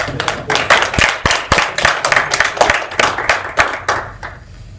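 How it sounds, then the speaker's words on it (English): Audience clapping at an East St. Louis NAACP meeting: a fairly sparse group of hands giving sharp, distinct claps in a loose, uneven rhythm that tapers off toward the end, with no talking over it. "Give Justice one another round of applause"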